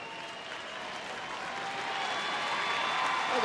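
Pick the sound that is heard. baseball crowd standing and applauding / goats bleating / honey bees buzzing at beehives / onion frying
baseball crowd standing and applauding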